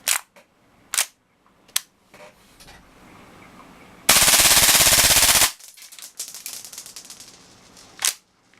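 A Tokyo Marui MP7A1 gas blowback airsoft SMG fires a loud, close full-auto burst of about a second, bracketed by sharp single clicks and mechanical handling noises before and after.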